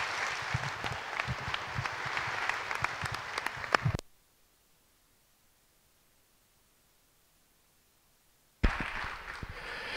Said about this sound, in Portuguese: Não peço um aplauso para nenhum em particular, peço para todos e para vocês também.